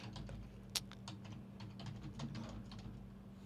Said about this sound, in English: you could just start typing in search phrases